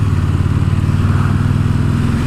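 A KTM 1290 Super Duke R motorcycle engine roars close and loud in a steady, continuous drone, with no talking over it.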